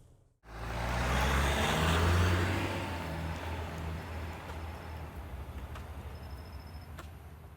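A Ram Rampage Laramie turbo diesel pickup drives on the road toward a gas station. A loud, steady engine and road roar begins abruptly and then holds at a constant level throughout, with no talking.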